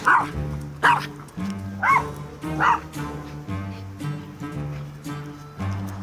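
Close, loud barks from a formerly abandoned puppy come in a steady string of four sharp yips, then softer whimpering sounds, over a constant music bed.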